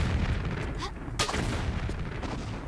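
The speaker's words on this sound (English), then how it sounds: "I wasted a ton of explosive ammo, but I still have 11." Explosive ammo fired in Tomb Raider IV: The Last Revelation, in Cleopatra's Palace, giving a sharp blast with rumbling low-end booms over continuous game background noise.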